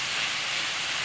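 Onion frying gently over low heat in a pan, a steady, dense hiss that stays even and unbroken throughout, close and fairly loud with no voices.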